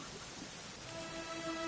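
Soft, steady rain falls in Dragon Quest XI, a quiet, even patter that holds throughout, with a faint sustained tone entering partway through.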